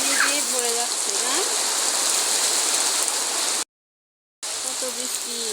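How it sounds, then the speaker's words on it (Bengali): Heavy rain pours steadily onto a village house and yard, a dense continuous hiss with bird calls over it, cut by a brief moment of silence. "বৃষ্টির পানি পড়ছে কত সুন্দর করে"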